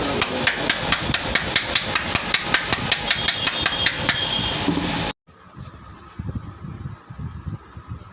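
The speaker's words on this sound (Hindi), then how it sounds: "बैक कवर लगाने के बाद इसके तीनों पेंच लगा दूँगा" Tools fitting the three screws into the back cover of a Mahindra 48 volt 3000 watt e-rickshaw motor: a fast run of even, sharp mechanical knocks for about five seconds, then a quieter uneven whirring and rattling.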